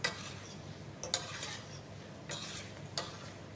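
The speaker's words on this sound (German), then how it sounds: "So, zum Umrühren, schön vermengen, geben wir schön überall Karamell dran." Strawberries are stirred through caramel in a pan for a flambéed dessert, with a steady soft sizzle and a few sharp spoon-on-pan clinks spread across the clip.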